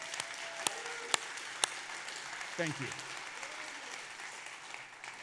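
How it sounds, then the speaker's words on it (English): An audience at a sleep summit event claps in a short burst of applause that fades away, with a few sharp louder claps near the start and brief speech from the stage. "Please give a round of applause."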